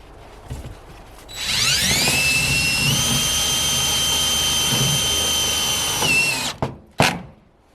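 A power drill drives a screw into metal trim on a she shed build, spinning up into a steady, loud high whine for about five seconds, then stopping with a couple of clunks.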